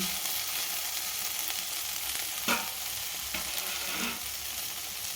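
Okra fries in a shallow pan with coconut spice, a steady close sizzle broken by a few scraping clinks of a spatula stirring it, with no one talking.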